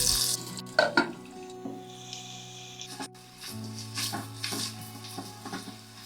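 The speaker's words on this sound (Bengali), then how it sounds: "প্রথমে টুকরো আলুগুলো ছেড়ে অল্প নুন দিয়ে ঢেকে 5 মিনিট মতো ভাজো" Steady low sizzling of potato pieces frying in oil, with a few sharp clinks and scrapes near the start, moderately quiet throughout.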